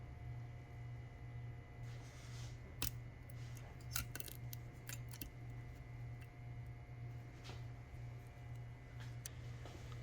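Blades snip and cut through the black coating of a fuel line, a series of faint sharp clicks and crunches scattered over a low steady hum.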